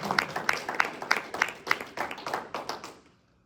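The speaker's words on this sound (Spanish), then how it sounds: "Denle un aplauso al Señor." Rhythmic applause in a church congregation, about ten steady sharp claps in a regular beat, moderately loud with a roomy crowd texture, ending abruptly.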